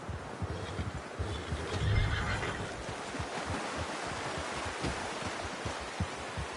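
A horse whinnies loudly near the start in the video game Red Dead Redemption 2, then hooves clop and shuffle steadily over soft ground, with rustling in the background.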